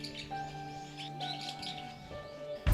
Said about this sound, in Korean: 산새의 지저귀는 소리가 요란하기도 한가하기도